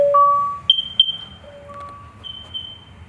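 Interlinked wired Nest Protect 2nd generation smoke and carbon monoxide alarms sound through a house in a carbon monoxide test, several loud, piercing beeps at different pitches that overlap and echo from nearby and farther rooms.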